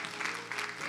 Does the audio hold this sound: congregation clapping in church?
yes